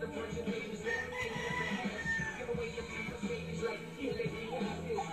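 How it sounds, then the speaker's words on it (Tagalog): Male and female turkeys call on a rural farm, faint gobbling and clucking calls drifting through a quiet countryside background, some at a distance, with no talk. "lalaki tsaka babae na pabo."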